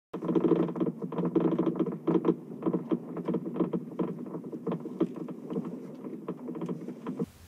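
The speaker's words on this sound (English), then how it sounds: "there was a lot of clunking and clicking noises coming from the front of my car" Repeated clunking and clicking knocks from worn front sway bar links on a Mercedes car come in quick irregular bursts, close and fairly loud, with no talking.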